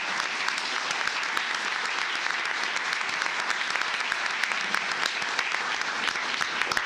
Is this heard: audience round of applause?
yes